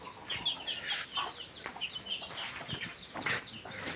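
Chickens cluck at a village poultry farm with feeders, waterers and cages, their repeated bursts of clucking fairly near and overlapping at moderate volume, with no talk.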